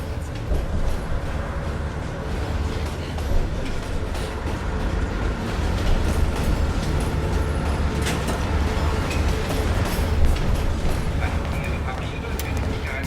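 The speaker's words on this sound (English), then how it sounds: "As soon as the train slows down, you and I'll jump off." A moving train in the video game Call of Duty Black Ops Cold War gives a steady, dense mechanical rumble and rattle throughout, with faint voices under it.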